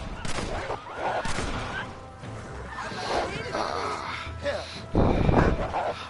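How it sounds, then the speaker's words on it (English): Gunfire in the Western video game Red Dead Redemption: several sharp, loud bursts of shots crack out at irregular intervals amid in-game commotion, with characters talking over the action. "Come on, shoot them then, John."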